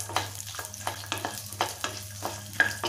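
Bay leaf, cashews and garlic cloves frying in oil in a pan, a close soft sizzle with repeated scraping stirs every half second or so, no talking.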